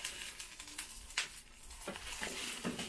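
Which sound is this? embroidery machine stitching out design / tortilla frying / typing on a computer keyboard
tortilla frying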